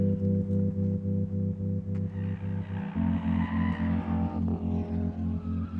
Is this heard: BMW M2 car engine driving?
yes